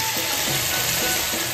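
Octopus sizzles with masala gravy in a kadai, making a continuous dense frying hiss with a faint rhythmic bubbling underneath. It sounds close and steady, with no speech.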